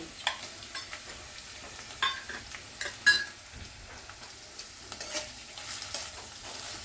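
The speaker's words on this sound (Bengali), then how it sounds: "এবারে এটা কি ভালো করে ভাজতে হবে একসঙ্গে" Ginger, garlic and pepper paste fries with a rohu fish head in a pan, a soft steady sizzle broken by frequent scraping stirs and light clinks of a spatula against the pan, close with no talking.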